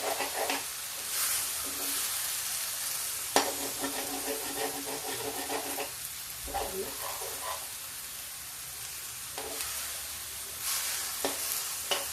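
Spice masala fries in a pan of cabbage and peas on a gas stove turned up high, a bright crackling sizzle with several spoon scrapes and stirring knocks, close and without talk.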